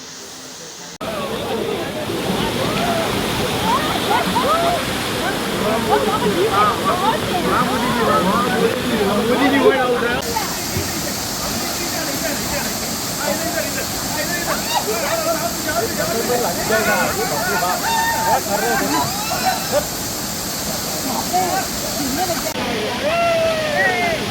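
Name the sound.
Sulsulo waterfall, third falls, Goa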